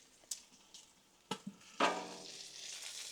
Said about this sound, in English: We'll just let that simmer for a while now.